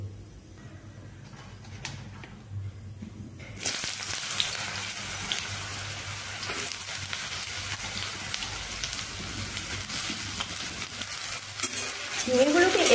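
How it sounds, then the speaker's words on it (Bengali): Sliced ridge gourd drops into hot oil with fried nigella seeds and breaks into a steady, loud sizzle, with a spatula stirring and scraping the pan throughout and a faint hum before the frying begins. "কালো জিরেটা একটু ভাজা হতেই আমি এবার কেটে রাখা ঝিঙেগুলোকে এখানে দিয়ে নেব"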